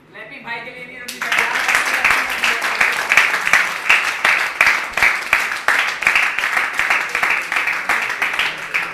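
An audience keeps clapping at a product distribution event in Multan, a dense and steady stretch of applause that starts abruptly and carries on without a break.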